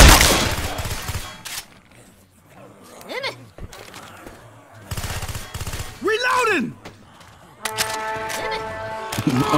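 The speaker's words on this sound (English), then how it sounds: "A machine gun?" Gunfire in the zombie shooter Left 4 Dead 2, with loud bursts of shots mixed with game effects and sweeping electronic tones, while someone talks over the action in short exclamations.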